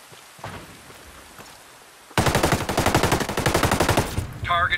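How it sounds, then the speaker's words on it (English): Rapid automatic gunfire from the video game Ghost Recon Breakpoint, a dense fast burst that begins suddenly after quieter ambience and continues loud and sustained to the end. "I hear gunfire."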